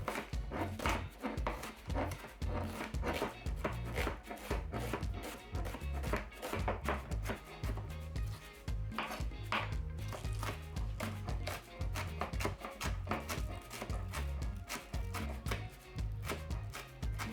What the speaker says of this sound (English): I'm gonna start by cutting up the onion.